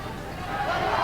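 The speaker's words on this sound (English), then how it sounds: "what a crowd we have in here this evening" Large indoor crowd of around 500 people at an evening Christmas roadshow in Aberdeen, a steady murmur of overlapping chatter that swells slightly toward the end.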